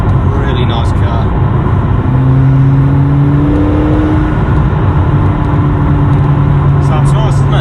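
A McLaren GT fitted with a titanium Valvetronic exhaust drives along, its engine note a steady, moderately loud hum that rises in pitch partway through, heard from inside the car.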